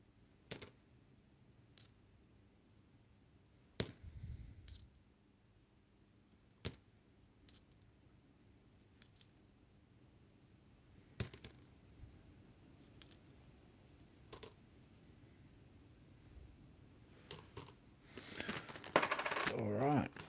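Small Australian 1c and 2c coins clinking sporadically as they are searched and sorted, with scattered sharp metallic clicks and drops spread across the stretch and a denser jingle of coins near the end, fairly quiet and close.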